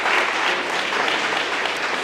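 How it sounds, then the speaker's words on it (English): Theatre audience applauding at a pitch event, a dense steady burst of clapping filling the hall for about two seconds with no voices over it. "Big applause for them, please."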